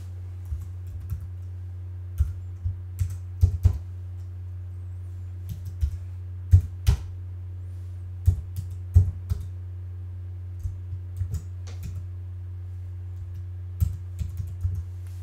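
Typing on a computer keyboard to enter a web address, with irregular bursts of crisp key clicks and occasional pauses over a steady low electrical hum, close and quiet, with no talking.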